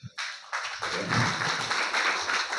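An audience applauding at an academic doctoral session, a burst of many hands clapping that starts abruptly and builds into a dense, sustained round of applause, fairly loud and near.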